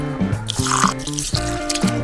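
Basmati rice is washed by hand in water, with repeated light splashes and drips over a steady tonal background.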